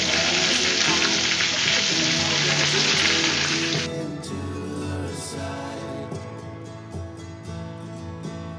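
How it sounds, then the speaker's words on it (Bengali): Pointed gourd (potol) fries in oil in a pan, a loud bright sizzle that steadies for a few seconds, then drops to a quieter crackle with scattered pops. "দেখুন পটলটাকে আমি ভালো করে ভেজে নিচ্ছি"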